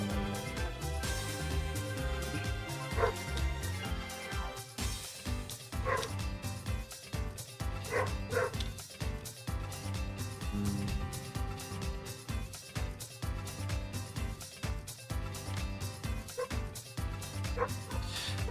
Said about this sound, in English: dog a borkin.